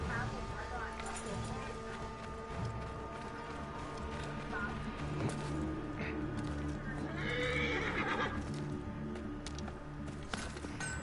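A horse whinnies in Assassin's Creed gameplay amid a dense, busy soundscape of hooves and ambient noise, with a voice speaking over the top.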